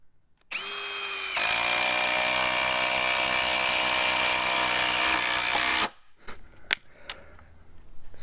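A Ryobi P239 brushless impact driver on a 3 amp hour compact high-output battery drives a 3-inch lag bolt into wood, one loud continuous whirring burst of about five seconds, close, followed by a few clicks and handling noises.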